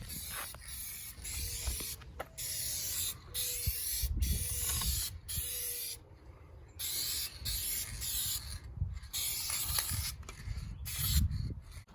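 A spray gun lays clear coat onto the rust-repaired body of a 2008 Ford F-150, in steady hissing bursts of a few seconds each with brief pauses between passes, close and fairly loud.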